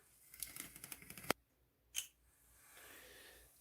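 A delivery box holding a Gunpla model kit order is cut open, with quiet scratchy slicing and tearing strokes followed by a sharp rip, a brief crinkle and a soft rustle, close by, with no talk.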